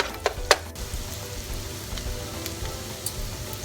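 Onions frying in a pan for kaldereta, a soft continuous sizzle with a couple of sharp pops and light stirring clicks near the start, close and fairly quiet.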